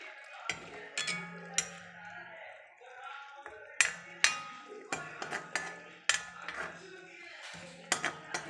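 Metal lid set onto a pot of fish curry with mustard greens and spinach on a home stove, giving sharp clinks and clatters among scattered kitchen utensil knocks, close and moderately loud.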